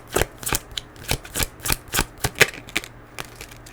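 Tarot cards are shuffled by hand in a string of about a dozen crisp, close riffling flicks at an uneven rhythm, with no talking.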